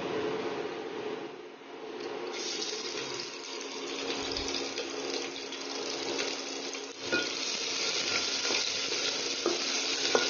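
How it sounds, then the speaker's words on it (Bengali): Garlic sizzling and frying in a pan while being stirred, a steady broadband crackle with scraping stir strokes, fairly close and continuous throughout, with no talking. "রসুনটা আমাদের প্রায় ফ্রাই হয়ে গেছে"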